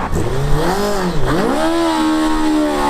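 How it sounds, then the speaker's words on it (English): A windscreen-less modified car fitted with a motorbike engine revs hard at an Isle of Wight car takeover, its loud, close, buzzing note rising, dipping and climbing again with no voices over it. "Oh, it's got a motorbike engine in it."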